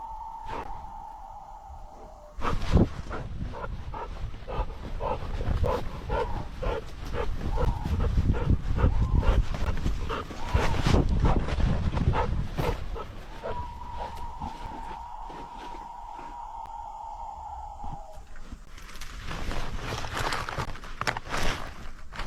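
A dog barks repeatedly in irregular bursts at mid distance, mixed with rustling and movement noise and a steady tonal hum at the start and in the middle.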